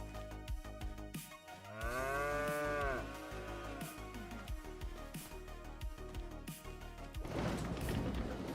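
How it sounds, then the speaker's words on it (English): Cows in the Farming Simulator 25 game let out a loud, drawn-out moo with falling pitch, set among a busy mix of farm game noises, clanks and thumps, with a rush of wind or rustling toward the end. "cows."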